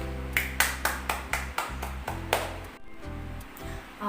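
A small audience claps for the Lord after a Bible story, giving about eight sharp bursts of applause in quick succession before a softer, steadier patter trails off.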